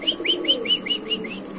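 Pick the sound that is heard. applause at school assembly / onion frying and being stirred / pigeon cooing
pigeon cooing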